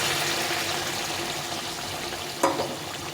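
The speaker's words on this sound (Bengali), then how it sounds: "এই গরম জলটা ভিজিয়ে দেবো" Hot water poured into a cauliflower, pea and paneer curry in a hot pan, a steady sizzling hiss throughout with a brief louder splash near the end.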